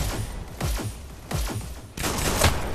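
Heavy shotgun blasts in the VR game Hyper Dash, several loud booming shots spaced unevenly across a few seconds with no talking.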